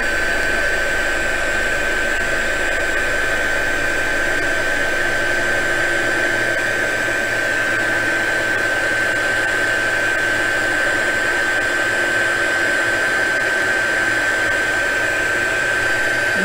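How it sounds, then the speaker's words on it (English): A heat embossing tool blows a constant, loud, steady hiss of hot air while melting embossing powder on a stamped card, unbroken for the whole stretch with no talking. "And we are going to heat emboss this."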